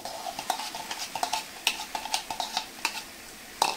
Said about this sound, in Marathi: याला सुद्धा तेल सुटेपर्यंत आपण छान परतून घ्यायचंय